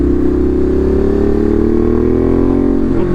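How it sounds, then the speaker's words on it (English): Ducati Monster motorcycle engine heard steady and loud from the rider's position, a continuous droning tone that slowly rises in pitch as the bike accelerates. "listening to a badass motorcycle as you're trying to go to sleep"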